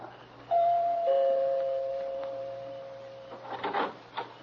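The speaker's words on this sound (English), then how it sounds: "before I pressed the bell" A two-tone doorbell chime from a 1947 radio mystery drama rings once, clear and close, its second tone ringing out and fading, followed by a few soft knocks or movements.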